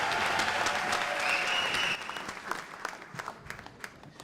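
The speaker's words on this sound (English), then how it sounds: "please give them an excellent round of applause" Audience applause greeting awardees at the CSUS African Peace Awards 2014, a dense burst of clapping that thins into scattered, closer individual claps before fading.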